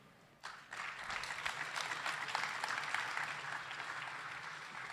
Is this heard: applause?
yes